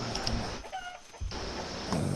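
A chicken clucks in the survival game Atlas, with a few short clucks rising briefly over steady in-game ambience at moderate distance.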